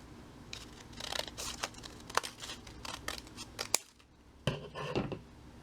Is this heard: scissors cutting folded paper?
yes